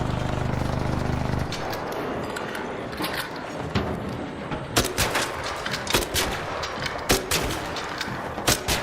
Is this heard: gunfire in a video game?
yes